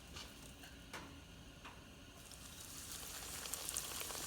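Panko-breaded pork chops frying in hot oil, a faint steady sizzle that builds and brightens, with a few quiet clicks and taps early on.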